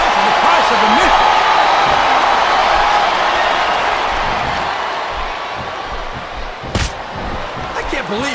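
A wrestling arena crowd chants continuously in Smackdown vs. Raw 2007, a steady loud roar that slowly fades, with a few sharp impacts near the end.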